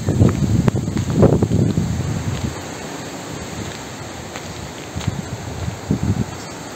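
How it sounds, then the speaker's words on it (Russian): Strong wind blows outdoors around a house and garden, a broad, steady rush that gusts harder in the opening seconds, then eases into a lighter continuous roar with brief buffets near the end. "Ужасный ветер, ужасный."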